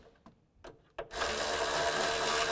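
A power tool tightens the thermostat housing bolts on a Chevrolet Cobalt: a few light knocks and clicks, then a loud, steady whirring drive that runs close up until the end.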